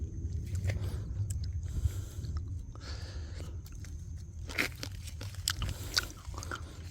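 Ripe wild raspberries crunched and chewed close to the mouth outdoors, soft wet bites and smacks repeating unevenly over a low rumbling background.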